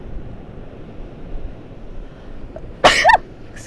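A single close sneeze bursting out near the end after a few seconds of quiet, faint background noise.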